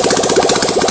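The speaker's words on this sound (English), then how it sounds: "So it causes a bang outside the engine." A misfiring engine with unburnt fuel igniting at the exhaust port, heard close and loud as a rough, uneven chugging with rapid repeated knocks and pops and no pauses.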